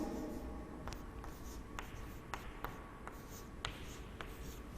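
Pen or marker strokes write a row of zeros during a Class 5 maths lesson on large numbers, about a dozen short, evenly spaced scratches, close and without speech.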